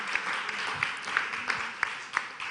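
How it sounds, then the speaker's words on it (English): Audience at a business conference applauding the organizers, moderate clapping from a mid-sized room with a few sharper individual claps standing out, and no one talking. "Could we please give them a round of applause"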